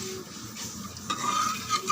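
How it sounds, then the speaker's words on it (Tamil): Water and rock salt are stirred with a utensil in a cooking pot, giving soft scraping and clinking strokes close by, quiet and without talk. "நல்லா கலந்து விடுங்க."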